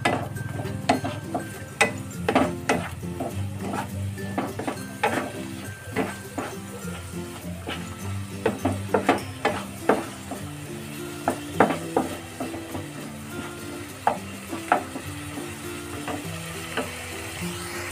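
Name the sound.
onion tomato paste frying in a pan, stirred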